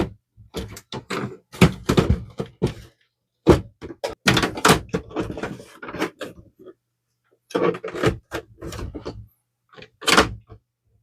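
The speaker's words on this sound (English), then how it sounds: "We're going to, with the help of a flathead screwdriver, just also lift the front." A flathead screwdriver pries up the plastic front cover of a Canon TS3720 inkjet printer, giving bursts of close clicks, snaps and scraping knocks in clustered groups separated by brief silences.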